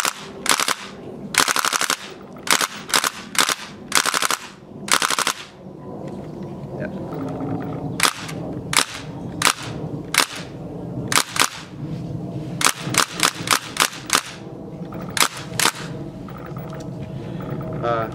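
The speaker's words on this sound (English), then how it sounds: "It's currently running at 120 psi, so here's some additional shooting." A prototype air-powered gun running at 120 psi fires repeatedly in sharp, loud bursts and single shots, with pauses between volleys and mechanical clatter in the gaps, close to the listener.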